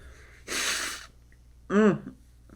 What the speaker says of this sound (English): I'm going to do that after I sneeze obnoxiously